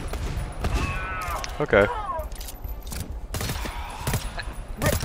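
Bursts of gunfire in a cooperative shooter video game, several sharp cracks and a short rapid volley scattered over a few seconds, mixed with players talking.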